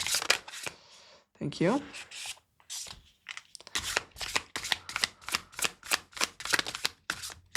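Tarot cards are handled and drawn for a reading: a riffling shuffle, then a long run of quick, close, crisp card slaps and flicks in a steady rhythm, with a brief spoken phrase partway through.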